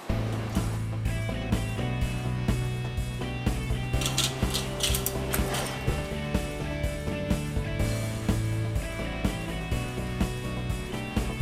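A vintage 1930 seaming machine clamps and rolls a double lock seam on a honeycomb radiator core, giving a steady rhythmic run of close metallic clicks and ratcheting clatter under a low mechanical hum, with a brief rough scraping burst midway.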